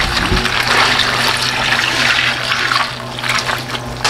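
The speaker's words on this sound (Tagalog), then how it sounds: "lalagyan din natin ng tubig, 1 kabo." Water poured into a pot for cooking crabs, a steady rushing splash that stays loud and close for several seconds before easing slightly near the end, with no talk.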